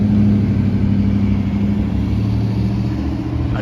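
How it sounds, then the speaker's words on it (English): A McLaren 720 engine rumbles steadily nearby, a deep, even drone that holds at a constant pitch for a few seconds. "I wanted to show you guys this freaking McLaren 720"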